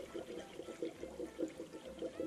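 Coolant glugs into the radiator of a cold 2006 Subaru Forester 2.5X with a steady, rhythmic gurgle of pulses, close and fairly quiet, with no talking.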